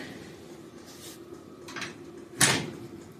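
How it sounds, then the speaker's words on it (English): A 1975 Volkswagen Super Beetle door shuts with one firm thunk near the end, after a couple of softer rattling creaks, heard close and alone. "got the door to shut perfect"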